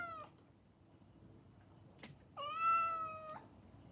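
A cat meows twice, a short cry then a longer drawn-out one, faint and alone against a quiet background.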